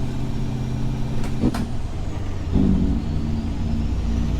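A heavy truck in American Truck Simulator hauls an oilfield lowboy under full engine brake and service braking, a steady low drone with brief hissing air-brake bursts, close and continuous.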